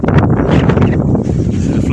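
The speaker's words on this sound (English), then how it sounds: "It is super windy up here." Strong wind buffets the microphone in a steady, loud roar, with a voice talking over it throughout.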